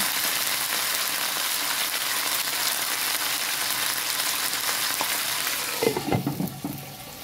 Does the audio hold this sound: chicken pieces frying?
yes